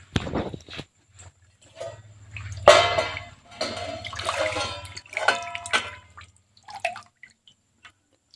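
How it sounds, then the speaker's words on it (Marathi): Wild leafy greens for Khandeshi phunke being rinsed by hand in clean water, giving intermittent splashes and drips in uneven bursts over a low steady hum, with short quiet gaps between handfuls. "आता हे स्वच्छ पाण्याने धुवून घ्यायचे"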